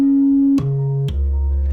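A synthesizer sine wave tone held loud and steady, jumping abruptly in pitch twice with short clicks at each switch, ending on a deep bass note, with no other sounds.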